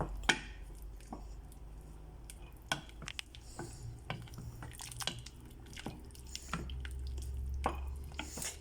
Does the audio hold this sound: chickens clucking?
no